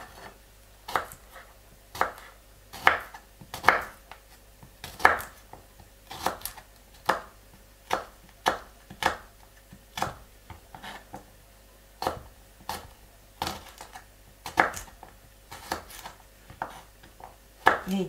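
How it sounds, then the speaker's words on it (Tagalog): Garlic cloves being chopped with a knife on a cutting board, a steady series of sharp, close taps repeating at an even pace for the whole stretch, no voices. "medyo pinuhin po natin ito. I-chop natin."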